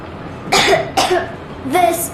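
A girl character in the video game Metro Exodus gives three short, close coughs in quick succession, each a rough burst with a brief pause between.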